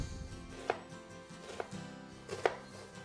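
A knife dices food on a cutting board for an egg, spinach and potato salad, three separate crisp chops spaced about a second apart, fairly quiet and close, with only faint background hum between them.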